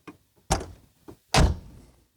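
Door of a 1982 Saab 900 worked by hand: a faint latch click, then two solid thunks of the door opening and closing, with a small click between them. Close and clear, no talk.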